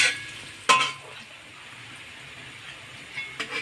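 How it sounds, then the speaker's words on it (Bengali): Onions frying in a pan until reddish, with a soft continuous sizzle under a few sharp stirring scrapes of a utensil against the pan near the start and end. "পেঁয়াজটা এবার একটু লাল লাল করে ভেজে নেবো আগে, যাতে পেঁয়াজের কাঁচা গন্ধটা চলে যায়।"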